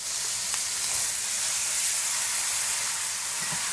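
Sauce tipped into a hot pan with caramelized ingredients for baked beans: a dense, even sizzle and hiss, close and steady, with a few soft stirring clicks and no voices.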